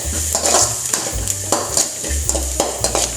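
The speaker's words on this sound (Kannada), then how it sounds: "ಮೀಡಿಯಂ ಬ್ರೌನ್ ಆಪನೋಟ ಫ್ರೈ ಮಾಡ್ತೀನಿ ಫುಲ್" Garlic frying in a pan for a Mangalore-style soya chunks sukka, a spatula scraping and knocking rhythmically against the pan over a soft steady sizzle, close and moderately loud, no speech.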